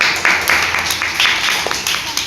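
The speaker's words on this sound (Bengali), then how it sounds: "হাততালি সবাই" A group applauds students for their exam results, producing a short, steady patter of hand claps that stays fairly loud and close throughout the brief stretch.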